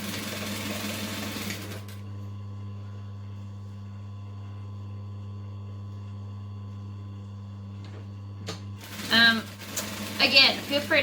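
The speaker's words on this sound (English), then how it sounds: "And I can chain stitch these so I don't have to chop them all off." A sewing machine runs at a steady hum for about seven seconds, chain stitching fabric pieces for a circle skirt, with talk before and after the stitching.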